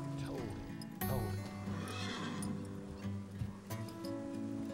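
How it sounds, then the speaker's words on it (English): Horse near wild bulls outdoors, giving a loud, close whinny with several stretched harmonic calls, hooves shifting beneath, and a voice talking over it. "My horse, Buck, does not share my confidence"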